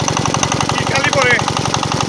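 An engine-driven pump draining a village fish pond: a loud, close, steady thumping chug with a fast regular beat running throughout, with a voice briefly audible over it.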